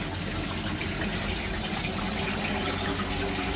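Water rushes constantly from a DIY koi tank filter as it is drained for a media flush, a loud, unbroken gushing wash that fills the whole stretch without pause.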